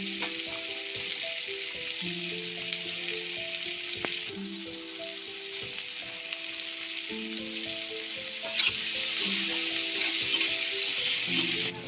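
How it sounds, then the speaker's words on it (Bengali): Onions sizzle and crackle steadily in a hot pan, a continuous frying hiss with soft background music underneath. "পেঁয়াজটা আমি একটু ভাজা ভাজা করে নেব"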